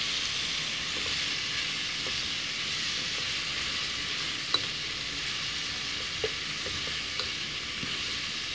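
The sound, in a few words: frying and stirring spices in masala in a pan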